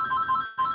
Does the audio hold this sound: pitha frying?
no